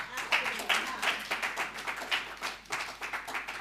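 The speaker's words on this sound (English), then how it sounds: "I think we need to clap." An audience claps at a gender policy launch and forum, a modest round of rhythmic, fairly close handclaps that pulses steadily for a few seconds.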